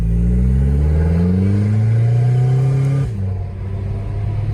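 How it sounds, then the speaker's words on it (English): Diesel engine of an Audi A3 TDI with a deleted exhaust and remote cutout, loud and close, dropping from a rising rev to a deep, rumbling idle out the back. "This kind of idle sound coming out the back still."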